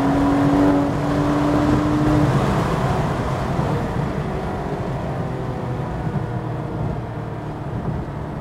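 Porsche 911 GT3 RS accelerating on the New Jersey Motorsports Park race track, a loud steady engine drone heard from inside the car with a rising tone early on, continuous with no talk.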